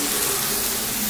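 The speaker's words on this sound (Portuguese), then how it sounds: "Vou colocar ela na panela só pra ela tirar um pouco dessa gordura" Mortadella slices frying in a pan to render the fat, giving a steady close hiss and sizzle with no talk.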